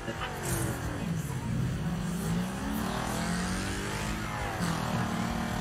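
A car accelerates during a Wreckfest race, its engine droning and rising and falling in pitch at close range as other cars roar, while someone talks excitedly over it.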